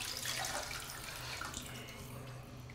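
Water runs steadily from a tap into a vessel of tamarind for raw tamarind soup, pachi pulusu, a continuous close splashing flow with no talk.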